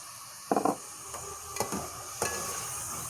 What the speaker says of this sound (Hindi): काली मिर्च को भी थोड़ा सा फ्राई करूँगी इसके साथ ही, ताकि ये अच्छा टेस्ट दे।